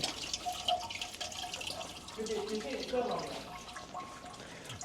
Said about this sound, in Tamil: ரெண்டு அடி அடித்ததுமே பாருங்கள் தண்ணி வந்துருச்சு